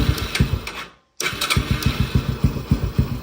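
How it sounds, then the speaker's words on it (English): A Yamaha TTR125 motorcycle engine, choke on, starts on its electric starter after a brief cranking burst and a short gap, then settles into a loud, close, lumpy idle with a steady thumping rhythm. "So we have electric start now."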